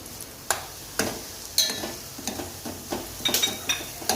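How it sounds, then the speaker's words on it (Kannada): Semolina (rava) roasts in a pan with cardamom and cloves, a faint dry sizzle broken by regular sharp scrapes and taps of a spoon stirring against the metal about twice a second. "ರವೆನ ಸ್ವಲ್ಪ ರೋಸ್ಟ್ ಮಾಡ್ಕೊಳ್ಳಿ"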